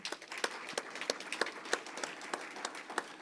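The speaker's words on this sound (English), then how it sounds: "let's just give them a round of applause as well." An audience at an energy-economy briefing gives a round of applause: steady, moderately loud clapping with distinct individual claps, continuous throughout without talk.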